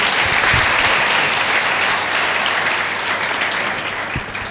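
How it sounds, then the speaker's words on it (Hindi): Sustained applause from an audience at a felicitation ceremony honouring a top-result SSC CGLE 2018 student, loud and steady throughout before easing slightly at the end. "और इनके लिए तालियां होनी चाहिए।"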